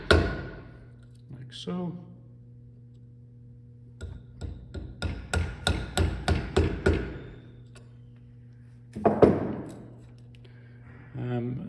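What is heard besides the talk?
chisel chopped straight down into wood for a mortice joint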